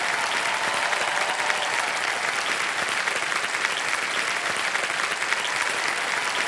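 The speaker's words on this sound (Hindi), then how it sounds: "तालियां बजती रहे और शोर मचता रहे इनके नाम पर।" Studio audience applause on the Kaun Banega Crorepati quiz show, loud and continuous dense clapping from a large crowd that holds steady for the whole stretch with no talk over it.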